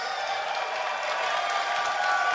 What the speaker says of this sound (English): Can I hear some noise from the crowd at Blizzcon 2011?